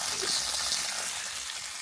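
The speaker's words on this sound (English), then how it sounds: "you can hear it, the water running, always running freely here." Spring water flows steadily from a hillside on a rural homestead near Penamacor, Portugal, a continuous bright rushing hiss with no breaks, moderately close.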